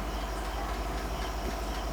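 A steady, rumbling train rolls along at speed, with continuous wheel and track noise and no voices.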